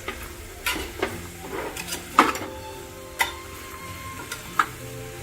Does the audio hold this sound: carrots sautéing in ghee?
yes